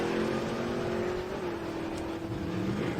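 A 1965 Ford Falcon and a 1972 Vega drag race at a Sick Summer 2024 event, their engines holding a loud, sustained roar with a slight pitch bend midway.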